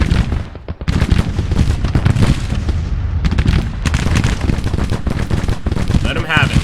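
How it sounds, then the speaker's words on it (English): Dense, continuous rifle volleys from Civil War cavalry returning fire in Grand Tactician: The Civil War, set in Missouri. Overlapping crackling shots roll on for several seconds with heavier booms mixed in, loud and steady throughout. "Some of our cavalry returning fire here."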